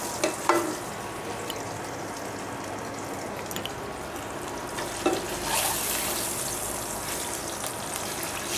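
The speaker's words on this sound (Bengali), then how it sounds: "এবারে ডিমটা একটু নাড়াচাড়া করে নিয়ে ভাজা ভাজা মতো করে নিয়ে" A steady sizzle of egg frying in a pan, with occasional scrapes and knocks of stirring, close up and no talking.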